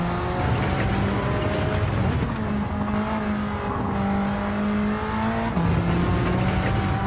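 Mitsubishi Lancer Evolution driven on a track in Gran Turismo 7, engine droning close and loud through the gears, with pitch climbing and dropping at shifts and a hint of tire noise beneath.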